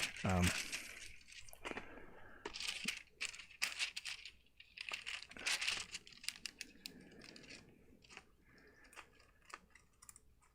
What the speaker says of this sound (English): This is going to make noise for a minute. It's just my wax paper.